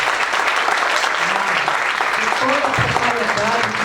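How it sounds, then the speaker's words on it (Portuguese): An event audience applauds a team, with loud, dense clapping throughout and voices and cheering mixed in over it. "eu quero agora uma salva de palmas para essa turma"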